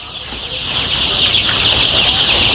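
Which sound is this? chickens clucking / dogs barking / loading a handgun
chickens clucking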